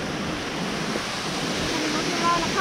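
A flooded river in El Salvador rushing after heavy rains, a steady, broad roar of fast water that stays loud and continuous, with faint voices nearby.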